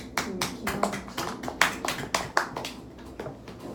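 Several sharp hand claps ring out in a loose, steady sequence in a room during a business strategy class presentation, moderately close, with a faint background murmur.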